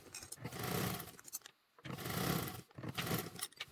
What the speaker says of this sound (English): So we're going to baste that zipper to the bottom of the back panel.